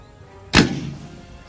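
A single sharp crack from a Dina air rifle firing, loud and close. A short decaying tail follows it, and the shot sits alone against quiet background.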